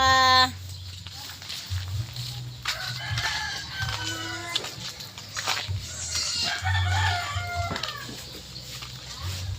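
A fighting rooster crows repeatedly over a low, steady hum, with clucking and faint background voices around the calls.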